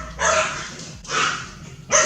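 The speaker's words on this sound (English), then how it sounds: "It's my dogs." Dogs barking indoors in a home, a few separate sharp barks spaced apart with short pauses between them, moderately close and heard alone.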